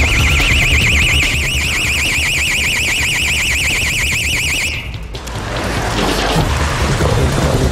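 A burglar alarm wails loudly during a police forced entry, its steady warbling siren running for about five seconds before cutting off, leaving loud rushing noise and the clatter of the raid.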